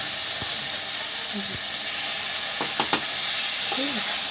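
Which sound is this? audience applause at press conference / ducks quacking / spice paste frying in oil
spice paste frying in oil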